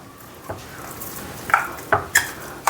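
A spoon whisks thick strained yogurt for shrikhand in a bowl, with soft stirring and several sharp clinks against the bowl, the last few coming quickly together.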